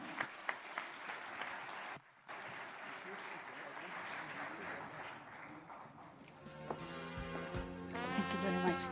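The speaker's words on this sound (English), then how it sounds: "Ladies and gentlemen, can we give our moderator a round of applause to Zinathi for an excellent job and an excellent panel." Audience applause at an investment conference panel in Gauteng, a steady broad wash of clapping from a large crowd with voices mixed in, a brief dip near two seconds, then music-like tones rising toward the end.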